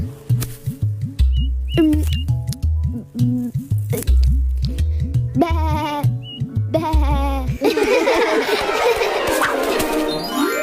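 Sheep bleat loudly in quick repeated calls, layered with other lively shrill tones and a burst of noisy, chattering sound toward the end.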